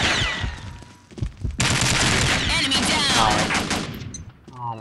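Machine gun fire from an MG in the Combat Arms video game: sustained, loud automatic bursts with a dense rattle, a short pause, then a long continuous volley that fades near the end.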